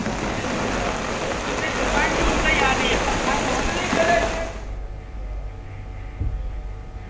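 Heavy rain pours in a steady, loud hiss for about five seconds and then cuts off to a quieter background for the rest of the clip.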